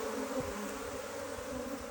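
Honey bees buzz around queen cells in a hive, a faint, steady, continuous drone with no pauses and no voices.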